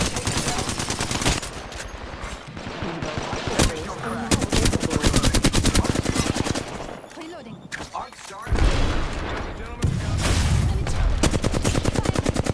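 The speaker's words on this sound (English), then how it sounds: "The enemies are shooting at me." Enemy gunfire in Apex Legends, loud close bursts of rapid automatic shots with thuds mixed in, coming in several volleys with brief lulls, alongside talking.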